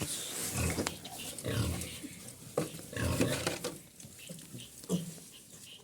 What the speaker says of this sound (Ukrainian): Ось такі поросята.